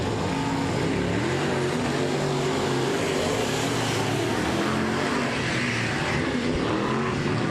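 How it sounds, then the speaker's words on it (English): A race car on the front stretch of an oval speedway holds its engine against the rev limiter, a loud, sustained high-pitched roar with a buzzing stutter, steady and continuous throughout. "he's already on the rev limiter coming down the front stretch"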